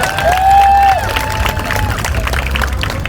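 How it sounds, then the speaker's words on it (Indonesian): Crowd applause and cheering at a Kamisan street rally, a steady wash of clapping and voices held for about three seconds, with an early tonal whine riding on top. "Tepuk tangannya kita berikan."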